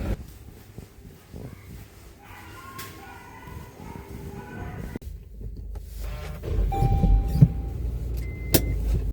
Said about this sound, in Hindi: बाकी गाड़ी कर ली स्टार्ट।